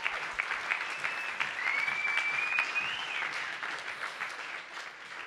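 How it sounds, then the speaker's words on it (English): Wedding guests applaud at a charity moment during the groom and best man speeches, steady dense clapping filling the room throughout, with a faint whistle rising midway. "please have a round of applause."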